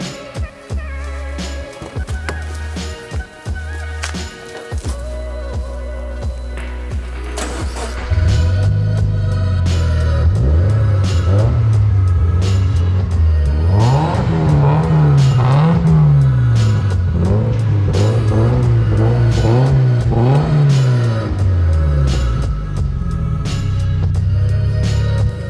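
A Skyray car engine revs hard and close, its pitch climbing and falling in repeated loud sweeps after a quieter idling start, with no talk over it.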